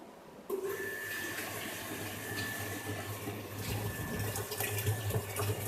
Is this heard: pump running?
yes